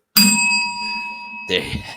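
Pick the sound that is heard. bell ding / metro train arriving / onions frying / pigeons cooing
bell ding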